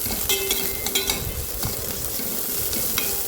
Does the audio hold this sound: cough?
no